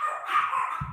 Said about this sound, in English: the dogs must know I'm podcasting